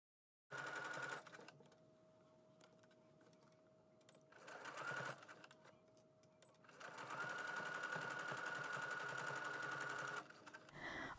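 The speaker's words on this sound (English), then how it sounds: "I'm going to take it to my machine and I'm going to sew around, attaching the brim to the body of the hat" A sewing machine stitches the brim onto the body of a child's double-sided bucket hat, running in three steady mechanical bursts, short at first and then a long continuous run, with quiet pauses between.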